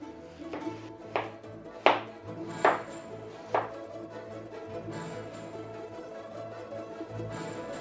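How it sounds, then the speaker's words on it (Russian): A knife chops onion on a cutting board while preparing solyanka, with five sharp separate strikes spaced about a second apart, followed by quieter kitchen background. "В первую очередь мы порежем лук."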